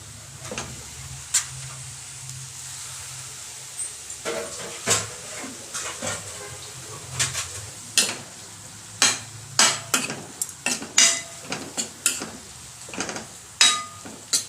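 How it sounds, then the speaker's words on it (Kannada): Tomatoes go into softened onions in a pan for palak paneer and are stirred with a spoon, giving a quiet background sizzle and a series of sharp metallic scrapes and clinks that grow more frequent toward the end. "ಈಗ ನಾವು ಟೊಮೆಟೊನು ಹಾಕೊಂಬಿಡೋಣ."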